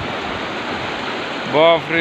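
A flooding mountain stream rushes in a steady, loud roar of water, close by, with a voice briefly exclaiming over it near the end.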